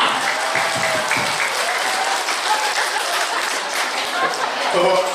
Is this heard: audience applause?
yes